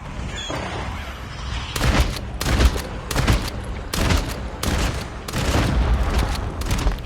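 Bursts of rapid gunfire from the COD Mobile zombie mode, with a quiet stretch followed by five loud, close volleys of automatic fire separated by short pauses and no talking.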